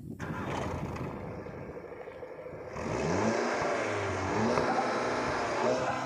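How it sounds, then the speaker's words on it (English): A Skoda Octavia vRS engine fires up and settles into a steady idle, then rises in a louder, sustained rev, heard up close with no talking. "Do you want to hear the sound of this engine? Well, of course you do. Let's fire it up."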